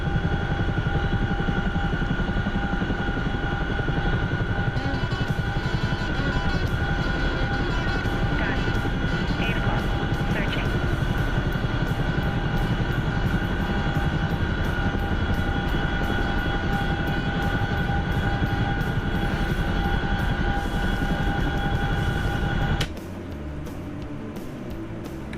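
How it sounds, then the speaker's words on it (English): A Chinook helicopter in a flight video game drones loudly and steadily, its engine and rotor noise filling the whole stretch before dropping to a quieter tone near the end. "Thank God I've got the Chinook now."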